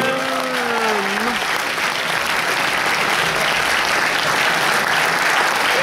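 Steady, dense applause from a large audience at a music competition final, cheering for a band, with a few whistles rising out of the clapping at the start and the noise holding full throughout.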